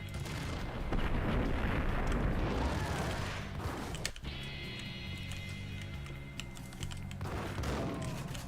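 Grenade launcher blasts in the video game Max Payne: a dense, sustained roar of explosions and gunfire fills the first four seconds, breaks off abruptly, then returns as a thinner rumble with metallic ringing, loud and close, with no talking.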